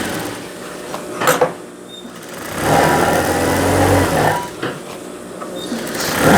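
A sewing machine stitches pajama fabric for a Saudi thobe, whirring in bursts: a brief run, then a longer steady stretch, and another run starting at the end.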